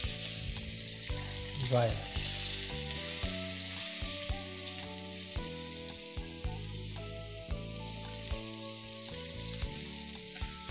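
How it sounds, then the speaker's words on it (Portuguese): A very hot frying pan sears with olive oil, a loud continuous sizzle running throughout with occasional pops, while a voice says a short word over it and music plays underneath. "Selou a frigideira bem quente."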